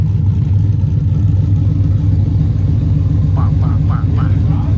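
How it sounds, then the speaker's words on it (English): Deep, steady exhaust rumble from a cammed LS-powered truck, loud and close throughout, with a brief run of choppy lopey pulses near the end. "Mike's piping up his cammed LS fucking truck. It sounds so dirty."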